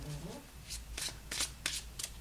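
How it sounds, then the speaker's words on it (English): Playing cards riffled and shuffled up close in short bursts during a tarot reading, crisp rapid flutters repeating about five times over low room hum. "as I'm shuffling these cards"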